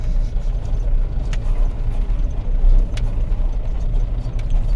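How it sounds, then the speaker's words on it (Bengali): A car creeps slowly along a rough, badly broken road near a park in Bangaon. A steady, close, low engine and road rumble runs throughout, with occasional small rattles and knocks and no talking. "গাড়ি জোরে চালানো যাচ্ছে না।"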